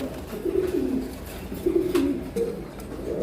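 Fancy pigeons at a farm coo in low, rolling bursts, several repeated calls close by over faint background noise.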